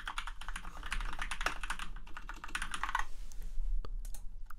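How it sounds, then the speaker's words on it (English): Someone types a question on a computer keyboard, a rapid, close run of clicking keystrokes that continues for several seconds with brief uneven pauses. "And then you can type a question here."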